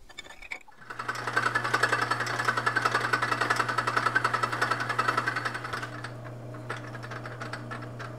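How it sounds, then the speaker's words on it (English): A metal lathe cuts screw threads during a 1950s power hacksaw restoration, giving a steady motor hum under a fast, even rhythmic chatter that fades near the end. "I did it this way so I only have to set the lathe up for threading once."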